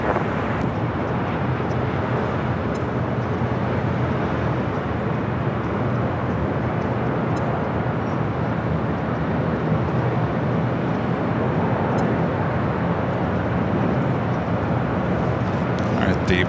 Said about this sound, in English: 757 slowly making its way over to 24 left